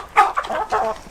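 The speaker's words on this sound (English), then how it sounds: "the chickens are doing just fine together." Chickens clucking in a greenhouse shared with a pig, a few short, close clucks in quick succession with no talk.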